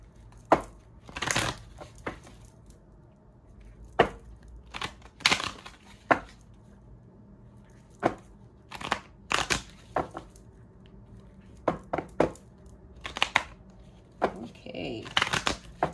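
A deck of cards is shuffled in short riffling bursts and taps, spaced irregularly over a quiet room, fairly close and soft, with no talking.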